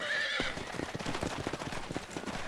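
Horses in Red Dead Redemption whinny loudly at the start, then hooves clop in a quick, steady rhythm amid a gunfight scene, close and continuous with no talk.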